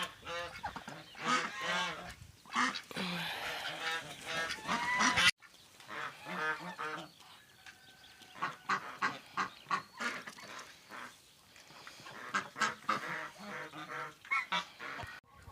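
Farmyard ducks and geese in western Ukraine honk and quack repeatedly in a busy, close chorus, the calls overlapping in irregular bursts.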